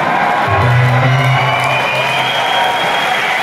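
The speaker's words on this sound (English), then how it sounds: "So it's so nice that you all clap, and then it's like, woo" A concert crowd at the Palladium in Cologne cheers and whoops during a show, a dense roar of shouts and applause with a few louder whoops rising early on, loud and sustained throughout.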